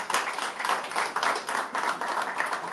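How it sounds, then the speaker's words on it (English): A Houston audience bursts into brisk, dense applause after a Mexican-American studies class presentation: a continuous wash of many hands clapping close by, steady and loud for nearly three seconds. "Round of applause."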